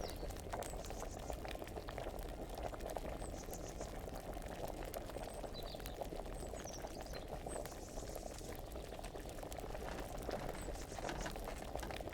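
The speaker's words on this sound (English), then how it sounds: "That looks like it's boiling" Water boils in a pot in the medieval game Kingdom Come: Deliverance, giving a faint, continuous bubbling and fizzing with tiny pops, steady and unbroken throughout.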